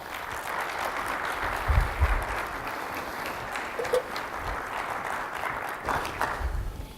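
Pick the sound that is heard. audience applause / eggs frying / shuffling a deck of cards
audience applause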